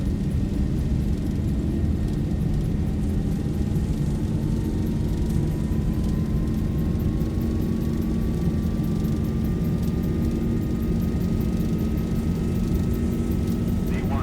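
Boeing 737-800 jet engines roaring at takeoff power during a simulated takeoff roll in X-Plane 12, a loud, steady, continuous rumble with a slowly rising whine that holds the whole time.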